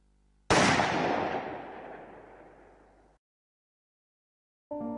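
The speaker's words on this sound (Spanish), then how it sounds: "Les dispararon en el acto." A single loud gunshot cracks out, its echo decaying slowly over almost three seconds before silence; a brief new sound starts right at the end.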